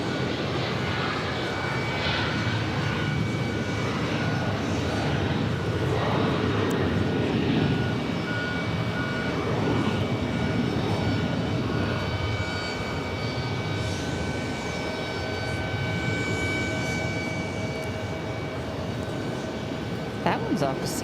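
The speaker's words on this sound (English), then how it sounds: "Alaska Airlines flight 31 off to Seattle. 737-900 ER." An Alaska Airlines Boeing 737-900ER jet departing for Seattle from JFK, giving a sustained engine roar with steady whining tones at moderate distance while people keep chatting over it.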